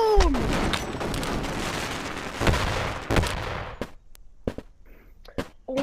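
Repeated loud grenade blasts in the video game Animal Company: one broad explosive roar rolls for several seconds, then sharp separate bangs crack out in an irregular burst.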